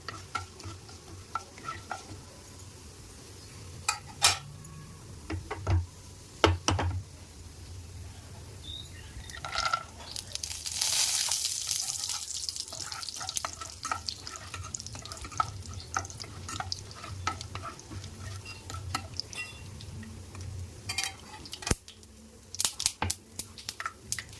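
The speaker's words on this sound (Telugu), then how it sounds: "పోపు గింజలు కొంచెం చిటపట అన్నాక పల్లీలు వేసుకుందాం." Mustard seeds crackle and splutter in hot oil, followed by peanuts frying for a wheat rava upma: sharp, scattered pops and crisp bursts over a soft sizzle, with occasional stirring scrapes close by and no talk.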